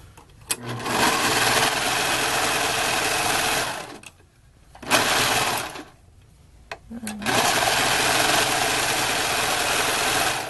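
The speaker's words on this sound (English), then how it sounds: "I was sewing it for the first time" A sewing machine stitches fabric for a hair bow, whirring loud and close in two long steady runs broken by short pauses and a brief final burst.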